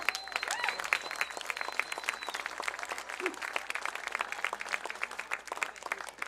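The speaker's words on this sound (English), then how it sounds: "Let's have a nice round of applause for all our champions." A crowd at a welcome parade for New York State Little League baseball champions applauds steadily, with continuous clapping at moderate distance, a few whistles near the start and faint crowd murmur underneath.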